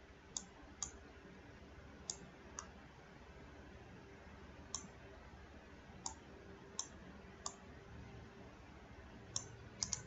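A computer mouse gives about a dozen sharp, quiet clicks at irregular intervals, some in quick pairs, over a faint hum while crafting designs in Silhouette cutting software.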